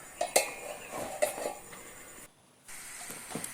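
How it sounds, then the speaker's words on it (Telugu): A lid being placed on a pot of ivy gourd curry, with a few close metallic clinks and scrapes of cookware, then a brief silence before faint kitchen sounds resume. "మూత పెట్టాలి ఒకసారి."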